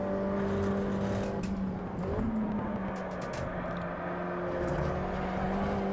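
A Mini's engine in a racing video game holds a steady, droning hum at constant revs with a brief dip and shift around the middle, loud and continuous with no talk.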